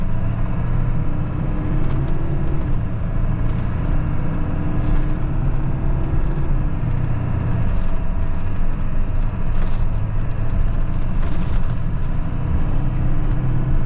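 A 7.3 Powerstroke diesel truck on a test drive after a repair, its engine and road rumble droning steadily and loud from inside the cab without pause.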